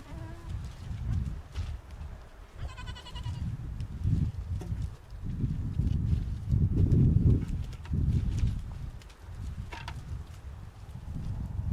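Goats being fed hay bleat once or twice over a low, uneven rumble of nearby movement and shuffling, with no talking.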